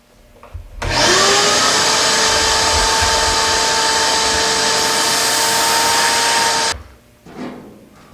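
A vacuum cleaner cleaning a gas heater switches on, roars steadily and loudly for about six seconds with a whining tone, then cuts off, leaving quiet room noise.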